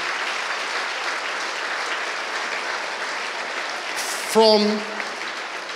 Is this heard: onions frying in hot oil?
no